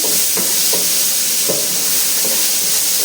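Tomatoes for a fish curry sauté in a hot pan with a loud, constant sizzle. A few soft stirring scrapes rise above it at irregular moments.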